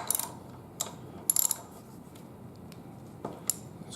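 An 8mm hex wrench rocks a brake bolt on a motorcycle brake, giving a few small metallic ratcheting clicks and taps in short clusters, close and fairly faint, with quiet pauses between them.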